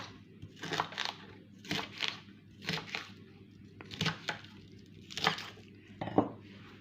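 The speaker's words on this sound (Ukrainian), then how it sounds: "А Стебельці отакі я буду нарізати ножем." Knife cutting through fresh vegetable stems for a salad on a board, six distinct crisp crunching chops spaced about a second apart, close and fairly quiet with no talk.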